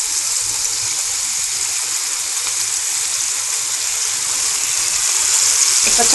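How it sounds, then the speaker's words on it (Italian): White wine splashed into a hot pan of pancetta, giving a steady loud sizzle and hiss that holds evenly for several seconds with no talking. "Aggiungiamo adesso una spruzzata di vino."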